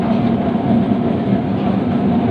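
Steady, loud rolling rumble from on board a Kolkata electric tram travelling between Dharmatala and Gariahat, with a continuous low drone and no voices.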